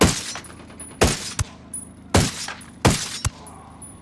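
Rapid gunfire bursts from a Ghost Recon Wildlands shootout, four sharp loud volleys with echoing tails and a few single cracks in between, no voices.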